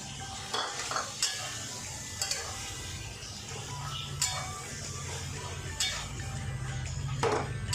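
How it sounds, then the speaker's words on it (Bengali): Boiled chickpeas tipped into a pan of taro greens for a coconut curry, with steady stirring and scraping over a low sizzle and a few sharp utensil clinks against the pan. "দেখো সিদ্ধ করা ছোলাটাও আমি দিয়ে দিচ্ছি"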